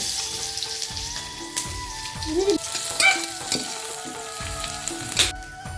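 Chopped onions dropped into hot white oil and frying for egg chowmein, a continuous crackling sizzle with repeated stirring scrapes, loud and close, no talking.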